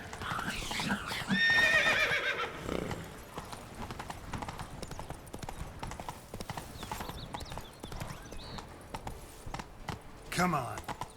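A horse in The Witcher 3 gallops with rapid, close hoofbeats, a loud neigh bursting out early and another whinny near the end, with brief voices mixed in.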